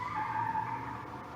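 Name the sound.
car doing burnouts, tires skidding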